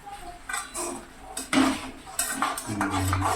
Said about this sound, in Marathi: हलवून घे फक्त एकदा म्हणजे मिक्स होईल मीठ वगैरे सगळं